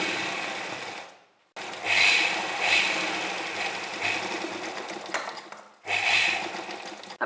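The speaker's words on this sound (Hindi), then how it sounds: "पिंटक्स की सिलाइयाँ लगा लेंगे।" A sewing machine stitches pintucks on an angrakha kurti, running in steady whirring bursts with a brief pause between runs and a restart near the end, close and clear with no talking.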